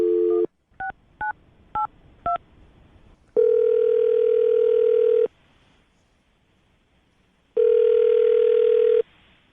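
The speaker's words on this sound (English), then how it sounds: "I'm going to dial the number right now" A telephone keypad sends four quick DTMF beeps, then two long, steady ringing tones separated by a gap, clear and close with no talk.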